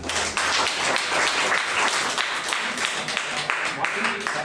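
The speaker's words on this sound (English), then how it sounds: "Give a round of applause, please." An audience applauding at a talk, a close, steady round of clapping with some individual hand claps standing out, lasting a few seconds over a faint low hum.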